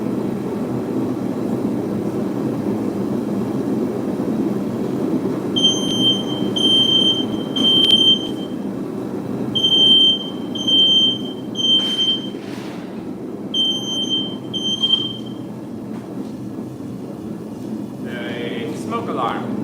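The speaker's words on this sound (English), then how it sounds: "Smoke alarm went off." A smoke alarm in a blacksmithing forge workshop, set off by smoke while forging Damascus steel, beeps in repeated bursts of high, piercing chirps over a steady roar of background noise, with a few knocks and a voice near the end.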